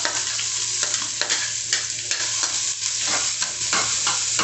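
Garlic and bitter melon sautéing in a little oil, a loud, close, continuous sizzle broken by repeated rhythmic scraping stir strokes.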